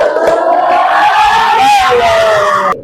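A classroom of students loudly shouts the tepuk semangat spirit chant in unison. The group voices are close and sustained and cut off sharply at the end.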